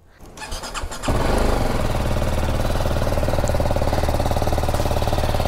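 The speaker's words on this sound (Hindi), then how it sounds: "सबसे पहले तो गाड़ी को करते हैं कोल्ड स्टार्ट" A BMW G310GS motorcycle is cold-started after sitting about a month. The starter cranks briefly, then the single-cylinder engine catches at once and settles into a loud, steady, close idle with no talking.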